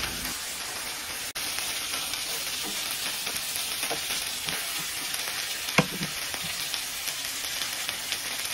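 Pieces of chicken fry in a pan with about two tablespoons of tomato paste while being stirred. A loud, steady sizzle runs throughout, with occasional scraping stirs and one sharp tap near the start. No one talks.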